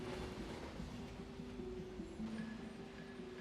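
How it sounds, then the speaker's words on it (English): Long coal trains at a mine roll along the rails with a steady low rumble and rattling wagons, and a sustained metallic squeal rides over the top. "Trains."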